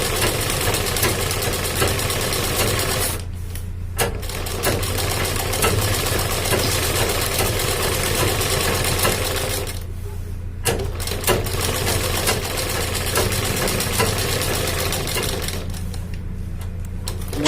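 A sewing machine stitches a shirt's front placket, running steadily and fairly loud with a constant motor hum and rapid needle clatter, broken by a few brief pauses.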